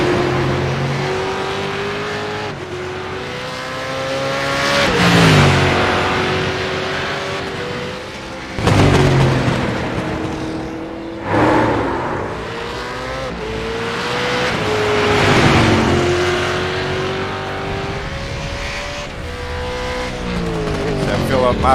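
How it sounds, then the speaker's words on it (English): A 600-horsepower Legacy Edition V8 Supercar in the DRT racing game screams through its gears, revving high, dropping on downshifts and climbing again over and over, loud and close under a commentator's voice. "he's tackling a V8 supercar, not an easy task"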